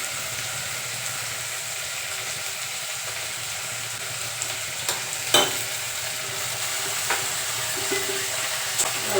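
Food stirred in a frying pan, a steady close sizzle with occasional scrapes and clinks of the spoon against the pan.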